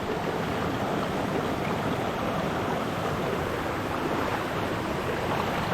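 Steady rushing water runs continuously throughout, a broad constant wash like a stream flowing nearby, with no voices.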